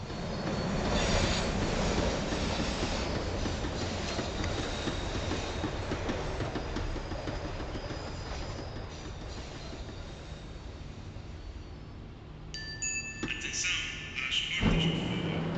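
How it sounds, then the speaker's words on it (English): A tram slowing down in the game Max Payne 3, with a steady loud rumble of wheels on rails and rail noise, then squealing and clanking near the end as it nears a stop. "The tram was slowing down, and I'd only just gotten on board."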